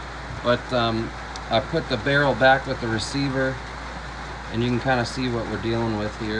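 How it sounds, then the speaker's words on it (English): Rain patters steadily on a tin roof, a constant soft hiss heard under someone talking close up throughout. "Sorry for the rain on my tin roof"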